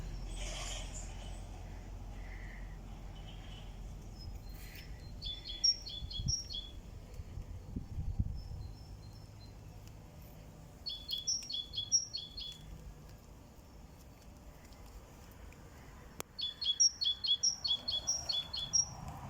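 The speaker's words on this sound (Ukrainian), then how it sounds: "пташки співають" Small birds sing in short, bright bursts of chirps that repeat every few seconds over quiet outdoor background with occasional low rustling, in a garden with a small pond in May.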